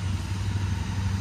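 A big motorcycle's engine runs steadily up close, a deep low rumble with a faint mechanical clatter and no voices over it.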